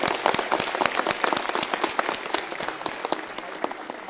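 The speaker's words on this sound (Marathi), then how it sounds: "ह्या सगळ्या वास्तूमधल्या सगळ्या पुरुषांनी आमच्या महिला भगिनींच्या स्वाभिमानासाठी जोरदार टाळ्या वाजवल्या पाहिजे" An audience at a political rally in Jalgaon claps vigorously, with sharp, dense hand claps forming a sustained burst of applause close to the microphone.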